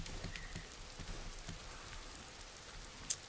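Rain falls in the woods in the video game Vermintide 2, a quiet, steady hiss of drops with a few soft taps and one brief sharp click near the end.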